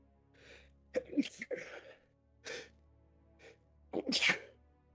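A person sneezes sharply up close during a tabletop role-playing game session, with a second loud sneeze a few seconds later and soft breathy sounds in between; someone then says "Gesundheit."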